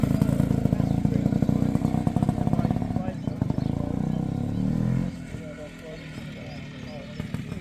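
A microlight aircraft's two-stroke engine runs with a loud buzzing drone, then drops to a quieter, rougher idle partway through. A person speaks over it.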